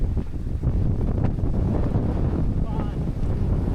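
Strong wind gusts roar and buffet the microphone in the Boh Valley mountains of Kangra, Himachal, during a storm, a continuous loud rumble with no clear speech.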